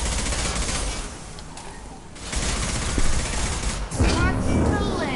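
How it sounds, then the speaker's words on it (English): Sustained gunfire from the video game Mass Effect 2, a loud dense battle roar with bursts through the middle and a sharper volley near the end. "Stop shooting me!"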